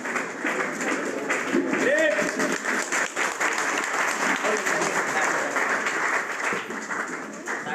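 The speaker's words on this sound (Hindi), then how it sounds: "प्लीज तालियां प्लीज।" Loud, sustained applause from an event audience welcoming a speaker onto the stage, with dense clapping throughout and scattered shouts and crowd voices mixed in.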